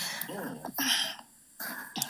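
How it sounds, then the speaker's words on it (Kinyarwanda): A few hoarse coughs and throat-clearing sounds, close and fairly quiet, separated by short pauses. "Oya nuko ndwaye inkorora."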